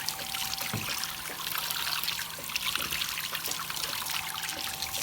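Water trickles and splashes steadily as a face is washed with a sponge, a close, continuous wet pouring with a few soft dabs and no voices.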